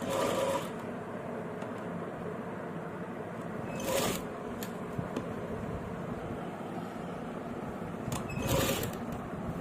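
Sewing machine stitching pleats into a salwar, a steady mechanical whirr running throughout with a few brief louder bursts, close by and alone.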